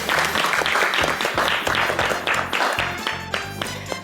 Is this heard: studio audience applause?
yes